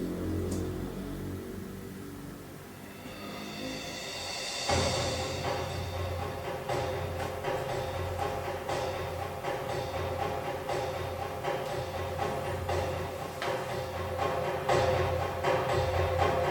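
Orchestral percussion from the Albion sample library, with cymbals and gongs, builds as a low, rumbling continuous wash, with a swelling cymbal-like hiss and a crash around the middle, then steady pulsing hits underneath.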